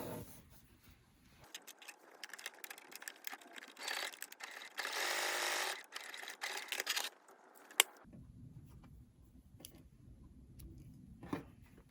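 A sewing machine stitches a seam on a cloth face mask, its rapid mechanical whirring running in several bursts with gaps of quieter handling between.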